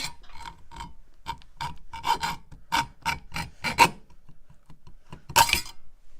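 Pliers cutting and trimming a drift trike cable end: a series of short, sharp snips and scraping rasps in an irregular rhythm, close and fairly clear, with no talk.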